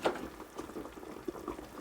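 A pot of gammon in Coca-Cola bubbles quietly on the stove, a soft steady burble with occasional small pops and no voices.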